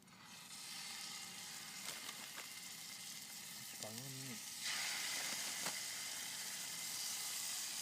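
Squirrel meat frying in oil on a small camp stove outdoors in the woods, a steady close sizzle and hiss that swells louder midway as the pieces settle in, with brief clinks of handling.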